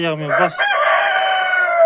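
A hen gives a loud, close call that starts with a few sharp clucks and stretches into a long drawn-out squawk, heard alone with no talk.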